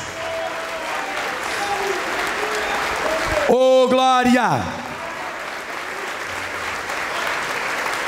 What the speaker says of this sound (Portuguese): Vamos aplaudir mais, vamos aplaudir mais.